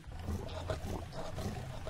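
A liger, the hybrid of a male lion and a female tiger weighing nearly a ton, roars in a deep, sustained rumble, several pulsing bursts heard loud and close with no talk.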